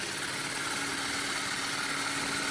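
Arduino POV propeller display motor spinning at full RPM, giving a steady, even whirring drone with no change throughout.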